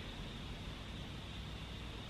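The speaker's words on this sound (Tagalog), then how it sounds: "Naririnig natin yung white noise." White noise machine left running in a home room, a steady, even hiss filling the whole clip at low level with no breaks and nothing else standing out.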